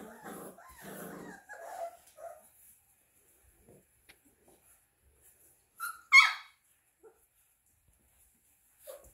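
Newfoundland puppies let out a few short yips and whimpers, sporadic and fairly close, with long quiet gaps between them and one brighter high yelp near the end.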